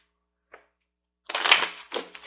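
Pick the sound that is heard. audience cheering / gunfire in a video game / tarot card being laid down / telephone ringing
tarot card being laid down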